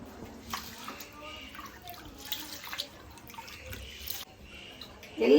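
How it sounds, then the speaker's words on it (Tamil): Rice being washed in water for a health mix flour: splashing, sloshing and dripping in a vessel with uneven bursts, close and moderately quiet, ending in a louder splash. "எல்லா அரிசியும் நம்ம வந்து தண்ணி ஊற்றி நல்லா வந்து ஃபுல்லாக வந்து கழுவிக்கணும்."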